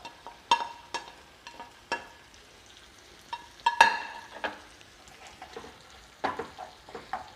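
Fried chicken and onions tossed in a pan, with a soft sizzle under scattered, sharp clinks and scrapes of a utensil against the pan at irregular intervals. Close by, with no talking.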